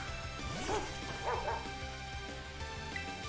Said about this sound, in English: Is that a dog? Is that a doggy? Puppy? Dog?